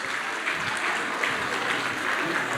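An audience at a matric top achievers award ceremony applauds, a dense, steady wash of clapping hands throughout with no pauses.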